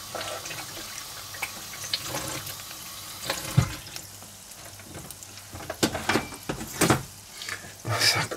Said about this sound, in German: Wir wollen es auf alle Fälle goldbraun frittieren.